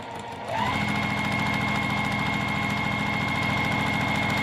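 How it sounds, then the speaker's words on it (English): A sewing machine runs steadily, sewing a top stitch along the folded edge of a quilt-as-you-go zipper tote bag pocket, a continuous close whirring hum with a fast even mechanical pulse after a brief start-up. "I'm gonna take it over to my sewing machine and just run a top stitch right down this folded edge"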